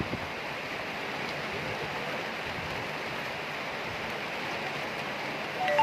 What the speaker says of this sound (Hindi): अब पानी इतना कस के बरस रहा है